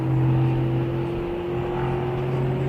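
Racing cars, a BMW among them, on the main straight at Brno during a GT Cup race, heard as a continuous steady engine drone at high speed, fairly loud and unbroken.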